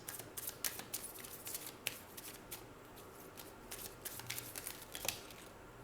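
Tarot cards are shuffled by hand for a pick-a-card reading, producing a steady run of soft, close riffling and flicking sounds with small sharp snaps throughout.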